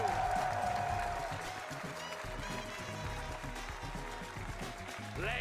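An esports crowd at the Six Invitational 2025 applauds the winners of the show matches, a steady broad wash of clapping and cheering that carries through the whole stretch.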